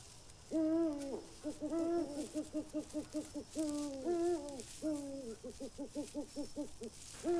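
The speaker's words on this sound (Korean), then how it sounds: "큰 부엉이는 지체 없이 날아올라 먹이를 둥지로 가져갔습니다." A large owl hoots in a wild habitat, producing repeated rhythmic hooting calls in bursts and quick staccato runs, loud and close throughout with no one talking.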